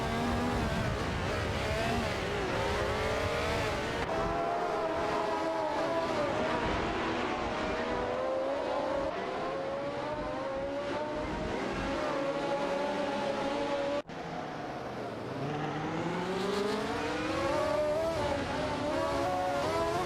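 Simulated race cars including a McLaren M23 and a Tyrrell 007 drone continuously with loud, rising and falling engine pitches as several cars battle closely, with a brief dropout midway.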